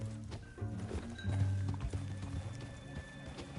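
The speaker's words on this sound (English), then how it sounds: "Stay on your horse, John." Horse hooves clip-clop at a steady trot in Red Dead Redemption 2 with some rumbling movement, a game soundtrack playing softly underneath.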